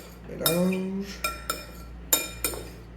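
Spoon stirring a sour candy mixture with lemon juice in a dish: a short scrape followed by four light, distinct clinks of utensil against the dish, close and fairly quiet.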